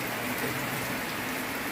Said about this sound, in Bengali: দারুণ সুন্দর বৃষ্টি।